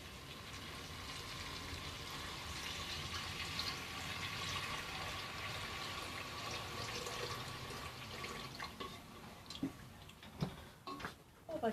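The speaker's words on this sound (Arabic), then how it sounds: "ها هو غنزيد دابا الماء" Water pours steadily into a cooking pot of browned meat, onions and spices for an artichoke stew, a continuous splashing fill, followed by a few clinks and knocks at the end.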